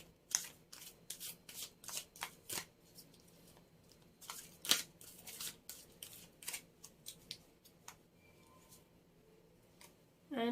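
Tarot cards being shuffled and drawn, a quick series of soft, crisp riffles and flicks, close and fairly quiet, followed by a few sparse card slides.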